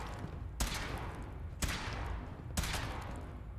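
A suit-mounted weapon in a video game fires three loud, sharp blasts about a second apart, each followed by a decaying rumble over steady background noise.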